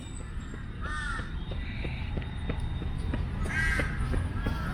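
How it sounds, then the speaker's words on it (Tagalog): A couple of harsh crow caws ring out over a steady low rumble of outdoor background noise in Lumpini Park, Bangkok, Thailand. "Daming uwak dito. Ayan, uwak."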